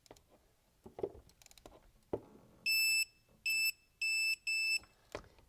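A large torque wrench being set to 32 foot-pounds on the fill plug of a 2011-2017 Honda Odyssey transmission gives four loud, sharp electronic beeps in quick succession. Quieter clicks and handling noises come before them.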